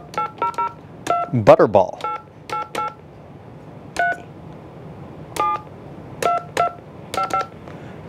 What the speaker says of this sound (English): I got to dial 9 to get an outside line.